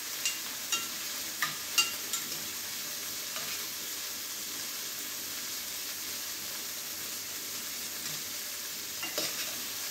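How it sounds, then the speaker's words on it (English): Shrimp tossed around in a hot pan for shrimp and grits, giving a continuous close sizzle and hiss with a few soft scraping and tossing knocks near the start, no talking. "So I'm just kind of tossing this shrimp around. Making sure that they get cooked on both sides."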